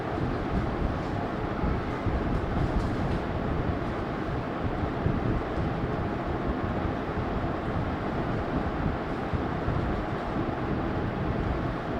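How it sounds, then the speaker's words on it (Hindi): Wind blows in a steady, broad rumble near the microphone during an online maths class, a continuous buffeting roar with no break and no talking. "हवा चल रही है"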